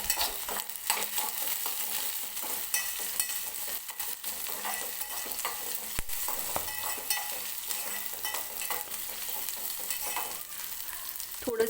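Peeled garlic and onions fry in a pan with a steady soft sizzle and occasional stirring scrapes, close up and fairly quiet, with no talk.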